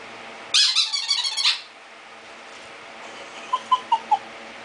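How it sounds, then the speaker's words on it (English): A squeaky toy ball gives one long, wavering, loud squeal as a dog plays with it indoors, then after a quiet pause a run of four short, fainter squeaks. "Your squeaky little ball, maybe."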